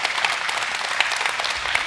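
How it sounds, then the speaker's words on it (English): An audience at a federal issues forum panel on trade at the Nebraska State Fair applauding, dense continuous clapping from a sizable crowd, steady and fairly loud with no talk. "let's give the ambassadors another round of applause"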